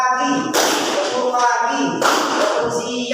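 Students clapping in a concentration clapping game in a classroom, sharp bursts of claps in quick rhythmic groups, close and loud, with a voice calling out between them.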